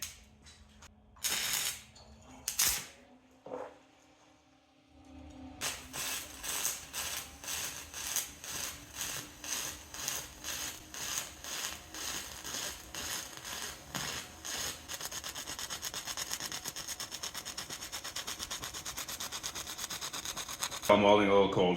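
Pulse stick welding with an HTP Freedom 3000 and cold, left-outside 7018 1/8-inch rod, running slightly cold. A couple of brief strikes give way to a long, steady, rhythmically pulsing crackle, close and fairly quiet, ending in a louder burst.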